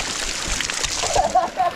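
Water gushes and splashes from a traditional stone water spout at Godawari, Lalitpur, a steady splattering flow close by with voices talking over it.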